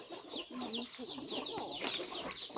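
Chickens cluck and chatter near the listener while being fed grain at a rural farmyard in the evening. The calls are short and overlapping, and a faint voice is in the background.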